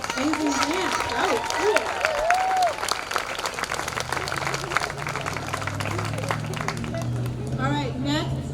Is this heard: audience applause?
yes